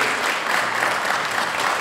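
Enthusiastic audience applause for a performer at a musical concert: dense, even, sustained clapping with no pauses, close and fairly loud throughout.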